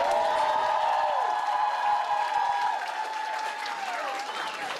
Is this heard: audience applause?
yes